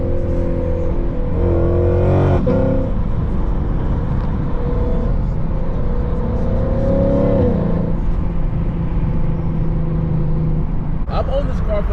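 A Lexus RC F engine drones loudly from inside the car while driving, with several rising revs and gear-change sweeps over a steady low rumble and road noise.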